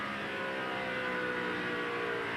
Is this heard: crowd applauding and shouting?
no